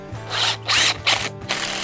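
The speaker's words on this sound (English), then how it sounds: "So gently bore your hole out" A drill bores a pilot hole into a wooden garden stake during garden-path edging work, heard as several close, loud whirring bursts with brief pauses between them.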